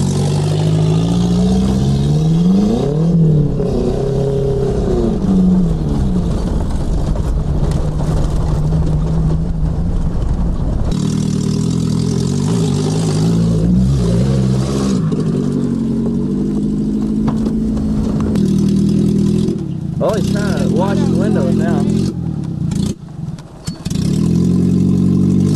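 A chopped 1985 Hyundai Pony is driven around and revved hard, its mid-pitched engine rising and falling in repeated surges. The sound is loud and close, with brief drops near the end and no talking.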